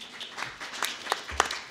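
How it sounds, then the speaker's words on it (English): Brief, fairly faint applause from a panel audience at a youth sports and development discussion, a few scattered claps standing out above the patter. "Can we give him a round of applause?"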